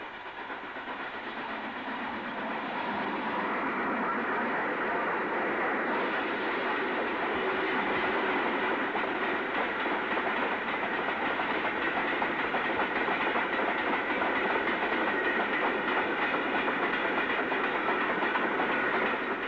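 Locomotive 43100 hauls a train of empty freight wagons bound for plate rolling mills, rumbling steadily with a faint clickety-clack of wheels, growing slightly louder and holding a continuous drone from fairly near.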